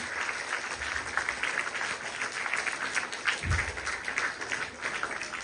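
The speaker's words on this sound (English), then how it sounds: "So give a big round of applause for your wonderful parents." School assembly audience applauding for parents, a steady, moderately loud patter of many hands clapping throughout, with a low thump partway through.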